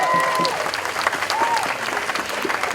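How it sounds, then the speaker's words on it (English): A crowd at the 2017 Science March rally in San Jose, California applauds steadily throughout, dense clapping mixed with a few scattered voices and cheers. "Okay, you're applauding what the deniers are doing"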